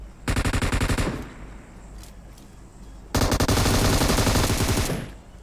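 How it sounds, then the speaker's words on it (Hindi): Two long bursts of rapid M249 machine gun fire in a shooter video game, loud and continuous, separated by a quieter stretch with reload clicks and a few faint mechanical sounds. "मैं आगे बढ़ता हूँ थोड़ा, प्री फायर देते हुए, रिलोड करते हुए।"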